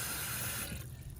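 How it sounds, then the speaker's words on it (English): Water runs into a blender jar while making ferret soup, a close, steady gushing pour that tapers off and thins out partway through. "I'm gonna add a little bit more water."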